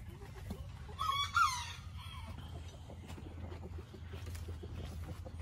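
A rooster crows once, fairly loud, near a nesting hen, then hens cluck and mutter softly in a quiet coop with a low steady hum behind them.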